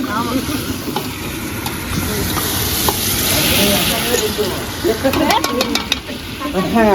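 Food with chicken leg pieces sizzles steadily in a hot pan while a utensil stirs and scrapes through it, with faint voices in the background.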